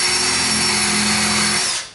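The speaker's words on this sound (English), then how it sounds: "So I'm drilling through the drawer box" A power drill bores steadily through a wooden drawer box, a continuous high whine at constant speed for nearly two seconds before it winds down and stops.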